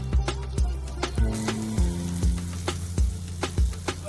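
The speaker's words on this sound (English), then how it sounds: "we'll add a tablespoon of butter." A tablespoon of butter melting in a pan for Iranian yogurt soup, with a loud, close sizzle and regular low knocks and thuds recurring about twice a second.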